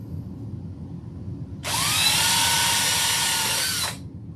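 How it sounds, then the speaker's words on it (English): A power drill bores into wood on a model railway layout, a single steady high-pitched whir of about two seconds that starts abruptly and stops cleanly over a quiet background, close and loud. "all it is just drilling and then"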